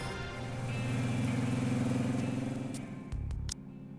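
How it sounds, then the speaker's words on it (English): A car engine in the video game Nikke hums steadily as the car cruises through the Ark streets, a smooth mid-pitched drone that swells slightly and then gives way to a few brief clicks near the end. "The car smoothly cruises through the Ark streets, the engine barely making a sound."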